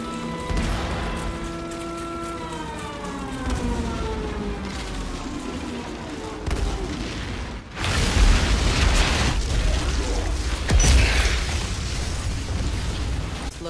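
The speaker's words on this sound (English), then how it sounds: "Artillery support incoming!" An artillery strike in Outriders, with a descending mechanical whine giving way to heavy booming explosions and crackling bursts, followed by rumbling debris and creaks.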